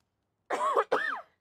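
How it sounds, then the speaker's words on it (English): Two quick coughs from a man, close and clear, sharp bursts separated by a brief pause and followed by silence. "Sorry, I don't know why I'm coughing."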